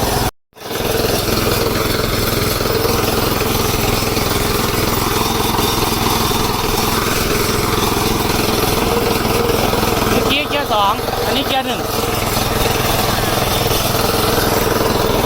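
Hyper X G40 ride-on lawn mower with three Y blades running steadily up close, a loud continuous engine drone with a brief dropout at the start and a few mechanical rattles near the end.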